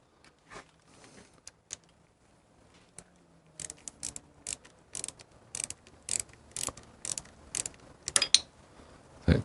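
A ratchet tightens the intake manifold bolts on a Harley Panhead engine in short bursts of quick metallic clicking, close and crisp, with pauses between strokes.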